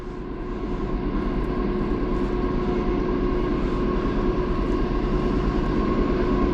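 An intermodal freight train rumbles past on the Graham Subdivision, a dense, steady roar of wheels and cars holding loud and constant, with no voices over it.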